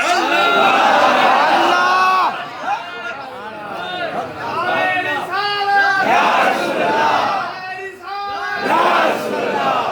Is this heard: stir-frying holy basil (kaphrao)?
no